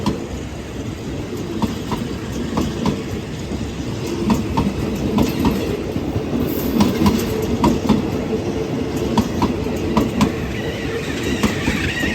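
Special State Railway of Thailand train departing Bang Sue Junction for a royal Kathin robe-offering ceremony, with a steady, continuous clickety-clack of wheels over rail joints and rolling carriage rumble throughout; no talking.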